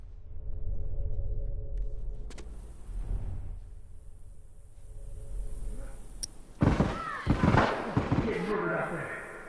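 Explosions from bombs in The Last of Us game boom out in a rough cluster near the end, sudden and loud, after a stretch of low background rumble and faint voices.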